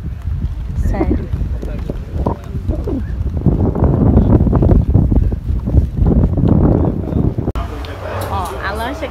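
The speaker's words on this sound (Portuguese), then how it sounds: "Nós estamos indo no mesmo barco que a gente usou pra vir." A motorboat engine drones steadily in the Maldives with heavy wind buffeting the microphone, while people talk over the noise throughout.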